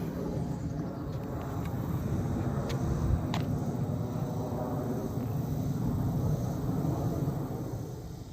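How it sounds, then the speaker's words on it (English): An A-10 military jet passes overhead as a broad, steady low roar that fills the whole stretch at an even level, with a few faint clicks and light handling noise close by. "Got one of those A10s flying over."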